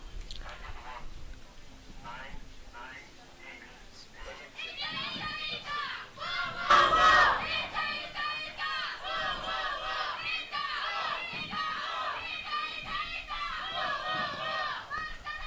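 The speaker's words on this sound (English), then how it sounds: "Italian team is warming up now. Yeah, we can hear them cheering" An Italian youth team at a European youth championship warms up with shouting and cheering, a crowd of young voices calling out and chattering over each other, rising to a loud burst midway, fairly close and lively.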